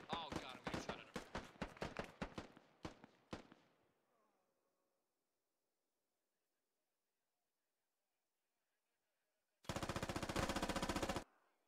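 Rapid automatic gunfire from the video game Squad, loud and close, in dense bursts for about four seconds, then a quiet lull before another sustained burst of fire near the end.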